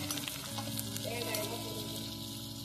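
Onions and grated coconut sauté in a hot pan for drumstick leaf thuvayal, a steady close sizzle running without a break across the short stretch, with no voices.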